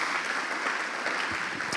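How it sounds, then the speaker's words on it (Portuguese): Congregation applauding in a church, a dense, steady wash of clapping throughout with no pauses, filling the room at a moderate level. "aplauda o Senhor bem forte em nome de Jesus"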